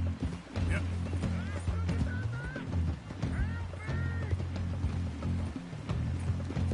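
A horse gallops with rhythmic clip-clop hooves in the Red Dead Redemption 2 video game, running steadily under a sustained low musical drone.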